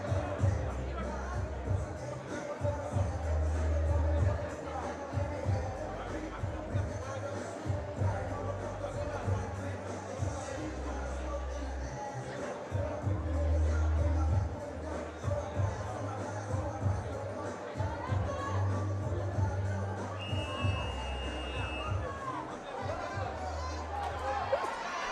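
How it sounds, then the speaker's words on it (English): A boxing crowd at a night of fights, cheering a returning fighter, fills the space with a steady, dense murmur of chatter and shouting. Low rumbles swell now and then, and no clear single voice stands out. "The crowd making noise for Jaime Barajas."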